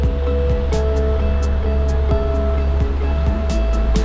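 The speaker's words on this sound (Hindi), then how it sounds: "मैं कहा चल के थोड़ा सा ये जो पानी का बहाव है वो देखते हैं।" River water rushes steadily at a rafting spot surrounded by greenery, a continuous full-bodied wash with a faint underlying hum and occasional soft knocks.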